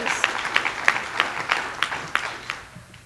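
Scattered hand claps from an audience at a community talk, a sparse run of roughly nine distinct claps spread over a few seconds, moderately near, with no voices over them.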